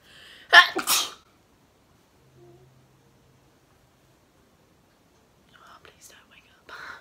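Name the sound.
sneeze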